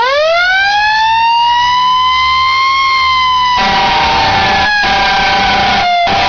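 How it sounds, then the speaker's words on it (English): A fire truck siren wails loud and close, rising into a long sustained tone that then sweeps up and down, with heavy rumbling road noise and brief dropouts near the end. "Fire truck."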